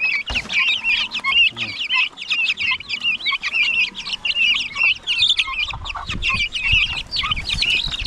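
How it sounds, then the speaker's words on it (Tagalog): A flock of chicks, turkeys and chickens clucks and chirps continuously, high peeping chicks mixed with lower clucks, close and busy, with a few rustles underneath. "Sisyo ng pabo at saka sisyo ng manok."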